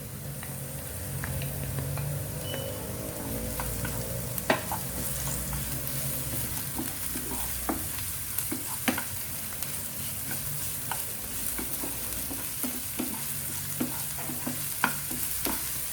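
A crushed ginger, garlic and chili paste fries with onions in a pan, a steady sizzle broken by frequent clicks and scrapes of a spatula as it is stirred, close by and without speech.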